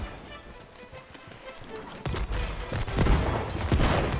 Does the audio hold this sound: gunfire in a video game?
yes